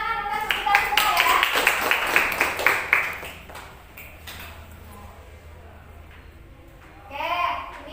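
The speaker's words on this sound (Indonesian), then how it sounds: "Tepuk tangan untuk kita semua ya." A classroom group claps together during a biology lesson, a short burst of sharp hand claps over about three seconds that fades into quiet room tone, followed by a brief voice.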